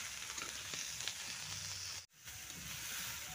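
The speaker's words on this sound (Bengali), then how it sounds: "এঁচোড়টা দিয়েও কিন্তু 10 থেকে 15 মিনিট আমি ভালো করে ভেজে নেব" Jackfruit pieces sizzle steadily in hot oil with spices, a close, continuous frying hiss with a few soft stirring scrapes and a brief dropout partway through.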